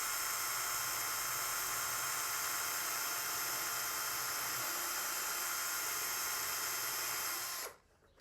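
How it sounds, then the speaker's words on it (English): Electric drill slowly boring a single hole through pine wood for a bird feeder; a steady, close high-pitched whine holds for about seven seconds, then cuts off abruptly. "I'm going to drill one hole here, and I'm going to try to go slow"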